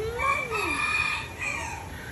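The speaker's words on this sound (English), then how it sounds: "You're gonna see chickens." Chickens at a mini zoo, with a rooster's drawn-out crow rising and falling and hens clucking nearby, fairly loud and close without talk over it.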